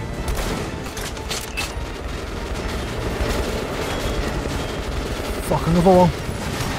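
Sustained rapid gunfire in the video game Metro: Last Light Redux, steady and loud throughout, with someone talking over it and a short tonal effect near the end.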